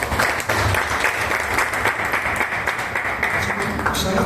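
An audience at a gathering breaks into sustained, dense clapping that fills the whole stretch at a steady, fairly loud level, with no clear voice standing out.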